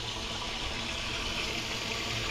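Water drains out in a steady, even rushing flow, faint and continuous with no voices.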